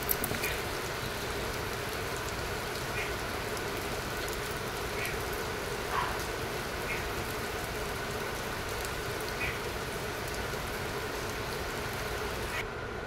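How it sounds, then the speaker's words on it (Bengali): Heavy morning rain pours down steadily in a dense, even hiss with faint scattered drips, continuous and moderately quiet throughout, with no voices. "দেখো সকাল থেকে কিরম বৃষ্টি হচ্ছে মুষলধারে"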